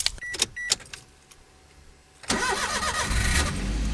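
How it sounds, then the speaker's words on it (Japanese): A kei camper van's engine cranks and catches in extreme Hokkaido cold, firing at about 2.3 seconds into a loud, steady idle after a few clicks and faint handling noises. "さあ、エンジンかかるでしょうか。"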